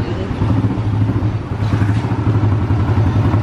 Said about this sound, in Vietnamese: Máy nổ các bạn ghi đi.